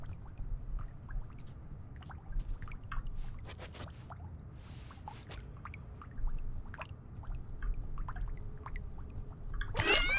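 A small object splashes into water in the video game Little Kitty Big City, a brief splash burst near the end after a stretch of quiet ambience.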